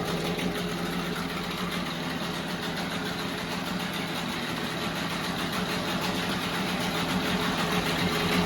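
A Seawalker outboard motor idles nearby, giving a smooth, steady, continuous hum and rumble with no breaks and no voices.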